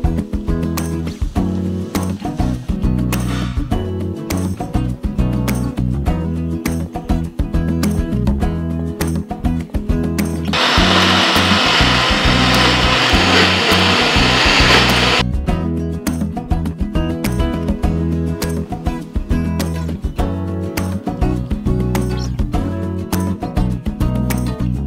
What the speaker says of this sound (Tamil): சூடு ஆறுனதுக்கப்புறம் மிக்சி ஜாரில் போட்டு அரைச்சி எடுத்துக்கலாம்